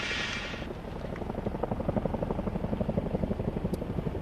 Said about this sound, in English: you may be able to hear the helicopters flying in the distance